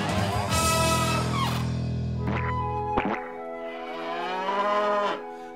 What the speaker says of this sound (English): It's Hepworth the cow and a few of her friends